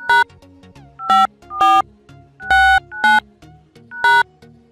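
Short keypad dial tones beep on a phone dialer as a passcode is entered, six crisp two-note presses in an uneven rhythm, close and clear with faint clicks between and no talking.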